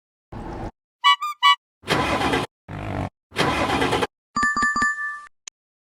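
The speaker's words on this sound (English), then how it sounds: "Sound is tractor" Tractor engine heard in two loud, rough rumbling bursts, each under a second long, separated by short gaps, with bright electronic chime tones before and after.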